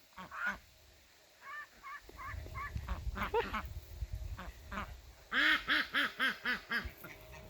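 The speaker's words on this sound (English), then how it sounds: "So that's a girl duck sound, that deep quack." A female duck quacks in a series of deep, evenly spaced calls, close and fairly loud, with a few scattered quacks before a quick run of six or seven.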